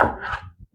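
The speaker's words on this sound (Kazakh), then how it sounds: "Пиязды үстіне майдалап турап аламыз" A knife finely chopping onion on a board gives one quick scraping cut followed by a couple of soft, close taps.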